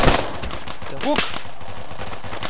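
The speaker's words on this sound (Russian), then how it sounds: "Я стреляю, если что, я стреляю." Rapid gunshots in Arma 3 rattle through a short burst, fairly close and dense, while a man briefly exclaims.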